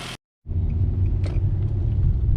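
A Nissan Altima engine with freshly installed ignition coils and spark plugs idles steadily and close up after a brief silence, a smooth low rumble with no speech.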